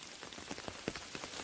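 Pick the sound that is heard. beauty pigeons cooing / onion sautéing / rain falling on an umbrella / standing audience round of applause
rain falling on an umbrella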